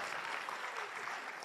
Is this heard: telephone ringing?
no